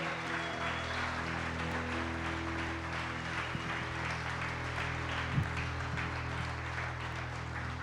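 Congregation applause offered during a church service, a steady wash of clapping that holds evenly throughout, with a sustained organ-like tonal hum beneath and no speech.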